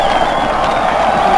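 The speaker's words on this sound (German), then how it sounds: "Applaus, Applaus, Applaus." Applause sound effect from the strategy game Warlords Battlecry III, a dense, steady clapping crowd that stays loud for the whole short moment.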